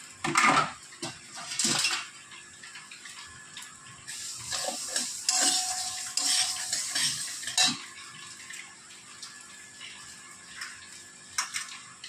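Dal being dry-fried in a kadai over a gas flame, stirred with a metal spoon: bursts of scraping and clattering come and go, with a soft frying hiss underneath and no talking.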